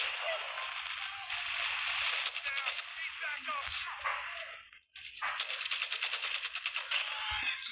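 Rapid bursts of automatic gunfire from a DR H or AK117 rifle in Call of Duty Mobile crackle in sharp repeated volleys, with a short gap before firing resumes.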